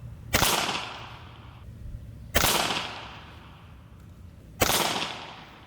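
A handmade 1911-style PCP air pistol fires JSB 14.35 grain pellets, three sharp, loud, evenly spaced cracks about two seconds apart, each with a brief ringing tail, no talking.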